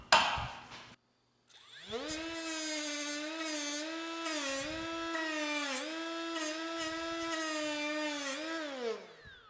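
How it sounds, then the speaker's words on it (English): A Hercules right angle die grinder fitted with a flap disc on a roll-lock adapter whines loudly and steadily while deburring, rising after a brief pause and holding a high-pitched tone for several seconds before spinning down. "Now I'm just using one of these flap discs on a roll-lock adapter"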